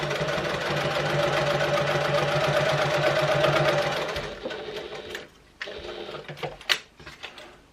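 Sewing machine top stitching a clutch wallet at a 1/8 inch seam allowance, a steady close mechanical whir of rapid stitching for about four seconds, then stopping into scattered handling clicks and knocks.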